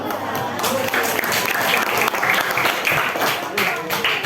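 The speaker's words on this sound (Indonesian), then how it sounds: "Ya, tepuk tangan." A class of students applauds after a group presentation on human organs, a dense continuous round of clapping that holds for several seconds, with voices mixed in.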